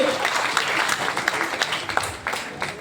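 Applause from people seated at a meeting, a steady patter of clapping lasting a few seconds with individual claps standing out near the mic.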